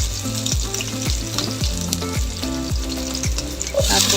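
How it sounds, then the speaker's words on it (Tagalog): Red onions sizzle and fry in a pan while being stirred, with a steady hiss and a rhythmic series of scraping strokes roughly every half second, up close and without talk. "Ay haluin."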